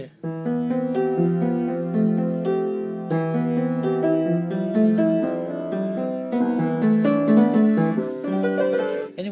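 A seventh chord on piano in open position, sounded both as solid block chords and as broken arpeggios, with sustained harmonic tones ringing steadily and clearly, with no talk.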